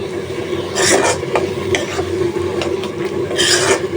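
Onions are pushed around a hot pan with a spoon, giving repeated scraping strokes in bursts over a low background hum, close and fairly loud.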